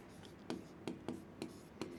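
Pen writing on paper during an accounting lesson, a few short scratchy strokes spaced irregularly over a quiet room background, close and soft, with no speech.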